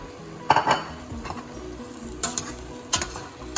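Asparagus pieces stirred in a soup pot with a utensil: a few close scraping and clinking strokes against the metal over a low, steady sizzle, with no voices.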